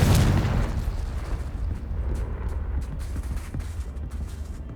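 A Confringo fire spell from Hogwarts Legacy detonates in a loud, booming blast that fades into a sustained, crackling rumble of debris and flames.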